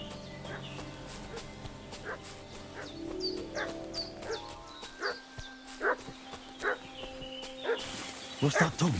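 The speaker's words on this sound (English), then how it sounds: "What's that dog making such a fuss about?" A dog barks repeatedly in a village in the video game Kingdom Come: Deliverance 2, sharp yaps scattered over a busy outdoor ambience with horses and chatter, moderately distant.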